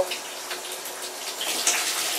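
A small amount of water pours from a tap into a container for rinsing cloth diapers, a steady close splashing rush without any voices.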